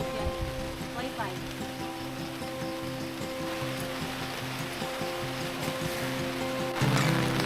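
Steady rain falls at a campsite, a continuous hiss of drops on surfaces that holds throughout and swells slightly louder near the end, with no speech heard.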